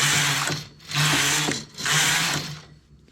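A domestic knitting machine works a peacock stitch pattern, the carriage sliding back and forth across the needle bed in three loud, rushing mechanical passes with brief pauses between, close and alone.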